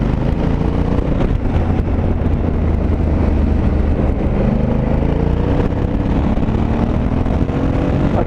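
A Honda Africa Twin 2020 motorcycle ridden on the road in Sport 1 mode, its engine a loud, continuous drone mixed with heavy wind rush from start to finish.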